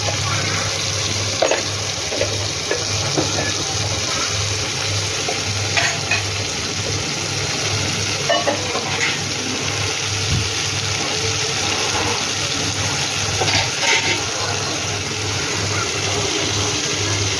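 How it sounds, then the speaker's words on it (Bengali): Fish curry cooking in a pan as water goes in, a loud continuous sizzle and bubbling with clinks of stirring, steady and close for the whole stretch. "জল দিয়ে দিলাম।"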